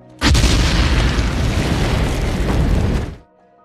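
A grenade explosion in a war film: one loud, sustained booming blast that rolls on for about three seconds and then cuts off sharply.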